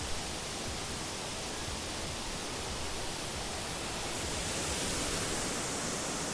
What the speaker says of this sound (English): Such an epic waterfall.